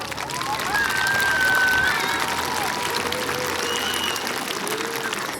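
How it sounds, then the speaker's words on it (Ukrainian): A crowd at a school Day of Knowledge ceremony in a lyceum applauds loudly and steadily, a dense wash of clapping that holds for several seconds, with some voices and shouts mixed in. "Ваші бурні оплески."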